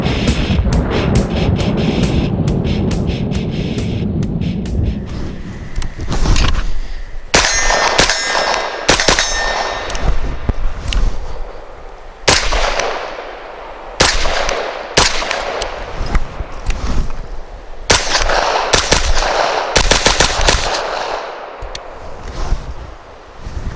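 Loud, sharp shots from a 9mm AR9-style rifle, a Freedom Ordnance FX-9, crack out in quick bursts and single rounds, some followed by metallic clangs from struck targets, with no talking.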